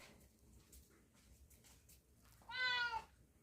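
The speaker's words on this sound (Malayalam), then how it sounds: "നമ്മുടെ പൂച്ച ഇവിടെ വന്ന് നിന്ന് ഇങ്ങനെ കരഞ്ഞുകൊണ്ടിരിക്കുകയാണ് മീനിൻ്റെ മണം കേട്ടിട്ടാണ്" A cat meows loudly and insistently for about half a second, close by, drawn to the smell of fish being prepared for an Alappuzha-style fish curry, after a stretch of quiet background.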